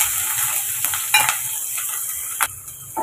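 Whole spices, chilli and onion sauté in hot oil with a close, continuous sizzle, broken by a few sharp stirring scrapes against the pan.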